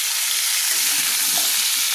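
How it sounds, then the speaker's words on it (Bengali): Carrots and winter vegetables fry in a pan while being stirred, a loud continuous hissing sizzle with faint scraping underneath, close and steady throughout. "তো দেখুন এইভাবে সবজিগুলো আমি নেড়ে হালকা হালকা করে ভেজে নিচ্ছি।"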